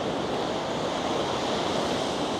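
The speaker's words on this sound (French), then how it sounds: "cette mer super agitée" Rough, agitated sea waves break steadily on a beach at Da Nang, a dense, continuous roar of surf with wind buffeting the microphone and no voices.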